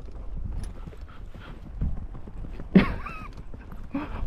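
A chestnut stallion's hooves clip-clop on the ground while it is driven along, soft, uneven steps at moderate distance with a brief louder rustle and thud near the middle.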